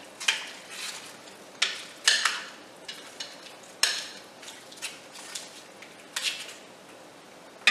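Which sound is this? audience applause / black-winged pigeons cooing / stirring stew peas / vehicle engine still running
stirring stew peas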